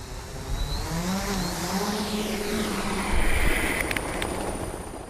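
A steady whirring drone of a small camera helicopter's rotors, filming wildebeest, hums through a broad rushing noise, its pitch shifting slightly as it passes.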